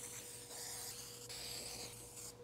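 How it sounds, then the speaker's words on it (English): 3M Formula 77 spray adhesive misted onto a paper pattern for van wall panels, a soft, continuous hiss lasting a couple of seconds, close and fairly quiet. "I'm only gonna spray one side, so not both sides, because I don't want a permanent bond."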